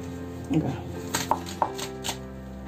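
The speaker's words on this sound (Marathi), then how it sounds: "ते मी असं विळी घेऊन चिरणार आहे" A few sharp chopping thunks of beans being cut on a curved floor blade, spaced irregularly, with a soft voice briefly in the background.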